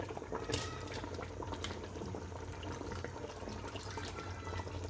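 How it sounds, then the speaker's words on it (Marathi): Rice for chicken biryani being poured into a pot of boiling water, with a continuous bubbling, churning liquid sound heard close up and no talk. "हा का आता मी ह्याच्यात टाकते तांदूळ"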